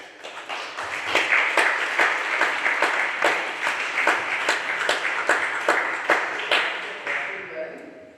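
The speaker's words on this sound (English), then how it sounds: "Let's have a round of applause for that." Audience applause at an open-studio dance try-out: a steady, dense crowd clapping that rises and holds loud and close for about eight seconds, then tails off.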